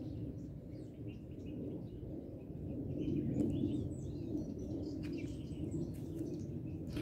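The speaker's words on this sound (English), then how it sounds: "You can hear the birds." Scattered bird chirps and calls sound faintly over a steady low outdoor rumble, continuing throughout.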